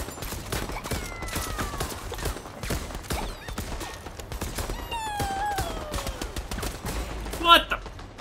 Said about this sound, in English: I couldn't hit that man with a shotgun blast to save my life